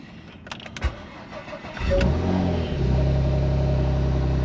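A Porsche Macan V6 Turbo 3.0 engine cranks and catches with its new starter and upstream O2 sensor fitted, then settles into a steady idle rumble close by.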